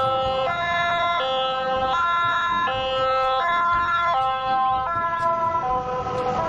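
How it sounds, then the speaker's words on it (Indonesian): A toy ambulance siren wails in a steady two-tone electronic pattern, alternating high and low pitches repeatedly, loud and close with no talking over it. "di sini ada mobil ambulan."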